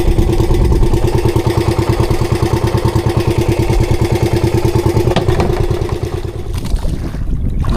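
The engine of a small fishing boat on the Pacific runs steadily and loudly close by, with a fast regular chugging throb that eases slightly toward the end.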